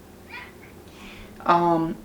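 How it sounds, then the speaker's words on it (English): Cats fighting at home, one giving a drawn-out, strained meow or yowl that rises loud near the end after softer scuffling noises. "as my cats start fighting"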